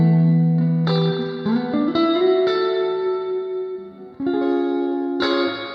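Electric guitar played through the Amplitube 5 Jimi Hendrix amp model with heavier reverb, a few ringing chords and bent notes that swell and sustain with long, washy tails, slightly driven and alone.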